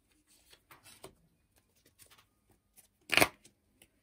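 Tarot cards being shuffled and drawn for a five-card spread: a few soft riffling flicks and taps, then one sharp, louder shuffle burst, all close and quiet with no talking.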